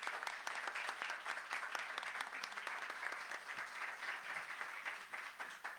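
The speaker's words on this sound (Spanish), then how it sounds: "Un aplauso para Ricardo." An audience applauds a guest named Ricardo Villanueva Reyes at a university authors' meeting, steady dense clapping that holds throughout with no voices over it.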